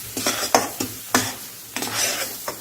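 Mango pulp sizzling softly in ghee in a pan over low heat, with repeated scraping strokes of a spoon against the metal in an uneven rhythm.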